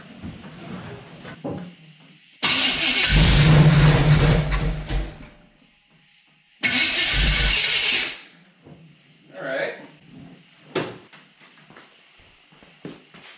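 A Jeep YJ fitted with a small-block Chevy engine cranks with carb cleaner sprayed in, two loud sustained bursts of churning starter noise separated by quieter rustling and handling sounds, without catching.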